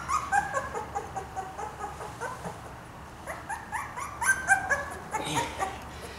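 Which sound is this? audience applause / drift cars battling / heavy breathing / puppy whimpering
puppy whimpering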